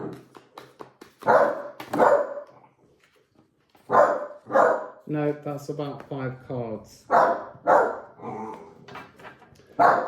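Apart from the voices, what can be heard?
dog barking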